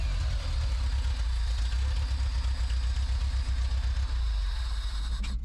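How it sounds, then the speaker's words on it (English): A warmed-up old Soviet truck engine idles smoothly, a deep, steady low rumble with constant mechanical hum, close and continuous throughout. "The engine runs smooth now it's warmed up."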